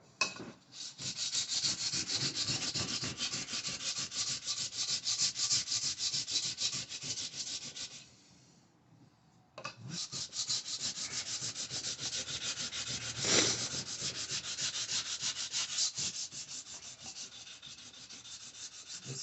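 Stainless steel guitar frets are filed and polished under heavy pressure. Close, rhythmic rasping strokes rub back and forth, pause briefly about halfway, then resume with the same scraping rhythm.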